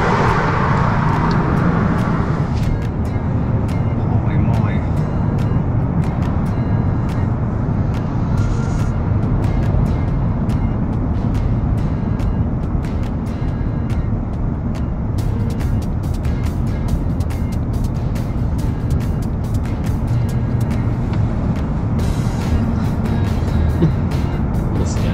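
Inside a moving car on the road, a steady low engine and tyre rumble continues throughout, with faint rattles and clicks above it and no talking.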